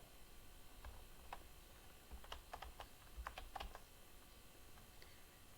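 Keys of a computer keyboard clatter in short irregular bursts while code is typed, quiet and close, with brief pauses between clusters of keystrokes over a faint steady background hum.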